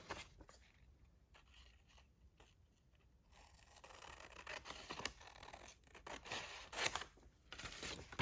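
Scissors snipping through junk-mail paper: faint at first, then a run of closer crisp cuts and rustles with irregular rhythm, quiet overall.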